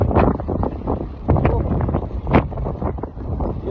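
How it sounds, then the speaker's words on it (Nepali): Strong wind buffets the microphone outdoors in Korea, a loud rough rumbling roar in uneven gusts that fills the whole moment. "यस्तो हावा परिरहेको छ।"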